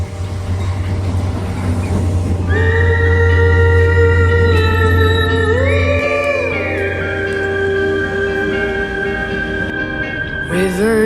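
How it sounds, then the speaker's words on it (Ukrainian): Steady low rumble of a moving train interior, with tonal whine rising as it changes speed, a continuous ride sound without speech. "Кожен день на такому поїзді я добираюся на роботу."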